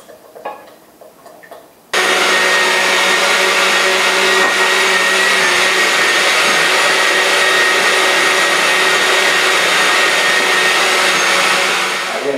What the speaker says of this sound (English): And I very carefully pour this in my blender.